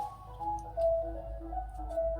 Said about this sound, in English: Do you hear the ice cream truck?